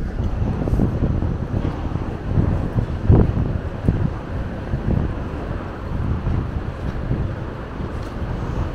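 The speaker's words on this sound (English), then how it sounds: "Yeah, it's a little windy" Steady wind buffets the microphone during an outdoor walk in Cologne, a continuous low rumble with gusty swells and a brief stronger gust around the middle, with no one talking.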